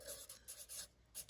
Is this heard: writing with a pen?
yes